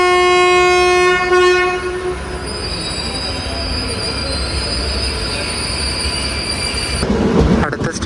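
A train rolling along the Kerala railway line between Manjeshwaram and Shoranur gives a loud, steady rumble with a long high-pitched wheel squeal, a sustained horn tone near the start, and a louder clattering burst toward the end.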